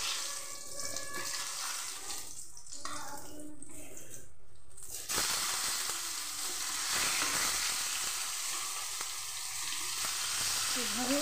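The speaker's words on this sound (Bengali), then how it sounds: "এভাবে বেগুন ভেজে নিচ্ছি।" Brinjal slices fry in oil with a steady, close sizzling hiss that shifts in texture partway through, with stirring noises and a watery splash mixed in, and no one speaking.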